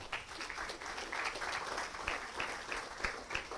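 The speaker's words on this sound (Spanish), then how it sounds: "Un aplauso a nuestro Señor." A church congregation applauds during a Spanish-language Easter service, a soft, fairly distant patter of clapping with a few sharper claps standing out, steady throughout.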